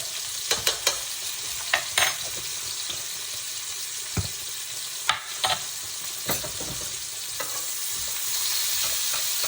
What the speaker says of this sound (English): I'm going to throw in about a tablespoon of minced garlic.